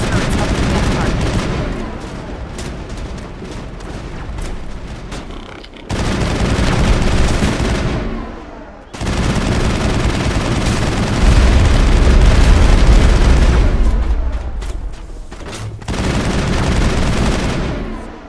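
Dense gunfire crossfire from the Mass Effect video game, with sustained rapid shots and booming impacts in loud continuous bursts broken by short pauses, plus long-range turret fire and faint voices underneath.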